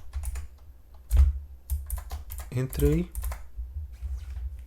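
Quick clacking keystrokes on a loose, faulty computer keyboard with an uneven rattle, close by, while a person speaks briefly over the typing.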